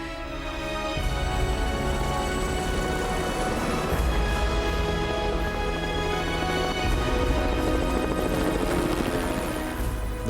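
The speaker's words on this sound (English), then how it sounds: "The helicopter rushes Sonja and Marni to safety." A rescue helicopter lifting two stranded climbers from a mountain cliff face flies nearby. Its rotors beat in a steady, pulsing thrum that stays loud and close throughout, with no talk.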